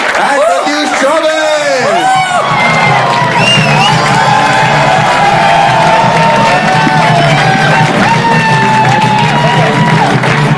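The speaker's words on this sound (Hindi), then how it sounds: "please welcome on stage with a huge round of applause" A studio audience cheers, whoops and shouts as guests are welcomed onto a comedy show stage, a loud, sustained crowd roar with laughter and voices throughout.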